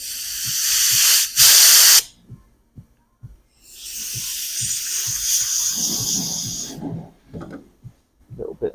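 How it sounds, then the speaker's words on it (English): Lubricant sprayed up the throttle cable of a STIHL multi-tool during servicing: two hissing aerosol bursts, a short one then a longer one, close up, with soft clicks and handling noises between them. "I'll just put some lubrication up the throttle cable"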